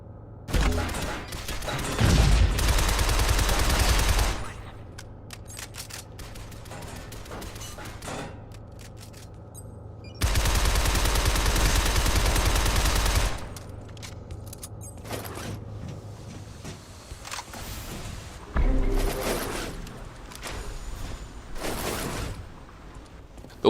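Automatic gunfire in the video game Shadow Complex, two long sustained bursts of rapid shots several seconds each, plus shorter scattered shots and game effects between them.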